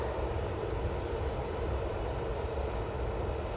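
Ryanair airliner at Manchester Airport, a steady, broad jet engine roar heard fairly close and continuous for a few seconds with no voices.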